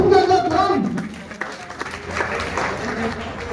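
Applause at an NCP party office gathering in Maharashtra honouring a doctor, a brief burst of clapping and crowd noise that thins and fades, with some voices mixed in.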